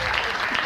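An audience claps at a rock concert at the Kooma club in Turku, a brief burst of steady, dense applause.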